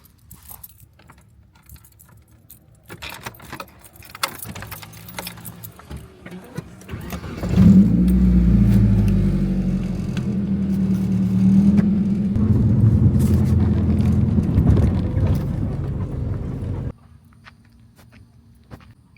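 Car engine starting and pulling away: keys jangle and footsteps shuffle, then the engine catches at once with a loud rumble, idles and moves steadily before cutting off abruptly, leaving quiet handling sounds.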